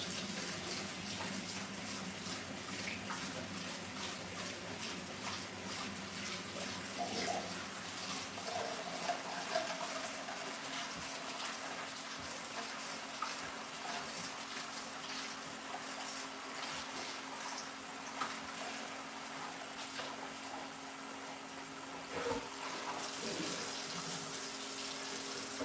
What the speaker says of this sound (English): But I do got to wash the pan.